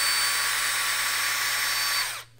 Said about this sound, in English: So I'm using the drill to screw this on.